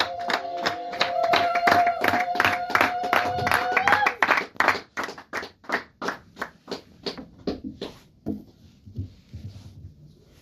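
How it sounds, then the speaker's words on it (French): A church congregation applauds, brisk rhythmic clapping over a sustained musical tone at first, then thinning into slower, separate claps that fade out toward the end. "Est-ce que nous pouvons applaudir pour la gloire de Jésus?"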